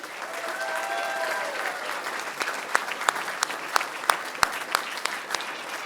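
Applause from an audience at a school board meeting, honoring students' family members, a steady wash of clapping that grows into sharper, louder individual claps toward the end.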